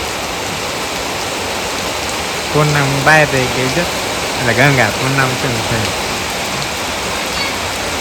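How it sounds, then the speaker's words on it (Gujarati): Steady rain falling in sunshine over a village in Botad, Gujarat, a constant soft hiss throughout, with people talking over it in the middle. "તડકામાં વરસાદ ચાલુ છે પાછો"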